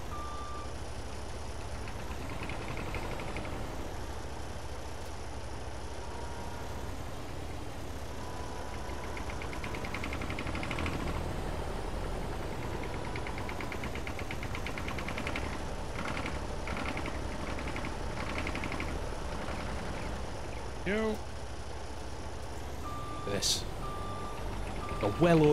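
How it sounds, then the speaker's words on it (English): A logging skid steer with a blade idles with a steady low engine drone while its reversing alarm beeps in a regular rhythm throughout, with someone talking over it. "It's a blade, it's a skid steer, it's a logging piece of genius."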